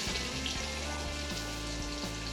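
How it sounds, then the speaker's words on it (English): Sliced onions sizzle in an Instant Pot on hot saute mode, a steady close crackle and hiss with a few soft thumps as the pieces settle. "It's still got it saute mode on hot, so I'm going to go ahead and toss in some sliced onions and let these go for about 2 minutes."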